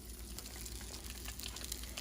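Shrimp toast frying shrimp-side down in hot oil gives a steady, dense sizzle with fine crackling throughout, close and continuous with no talk.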